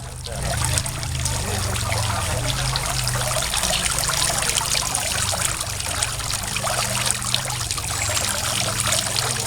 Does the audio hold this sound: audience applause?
no